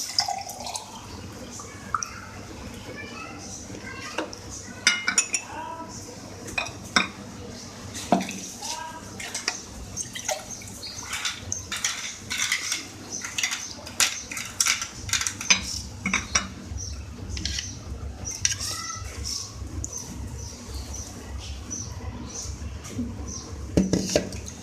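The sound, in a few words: ice cubes being added to glasses of phalsa sharbat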